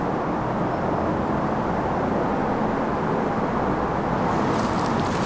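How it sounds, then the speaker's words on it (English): Continuous broadband roar of heavy motorway traffic on the M25 in Surrey, a dense steady rumble with no gaps, loud and unbroken throughout, with no voices. "sorry about the noise in the background, that's the M25."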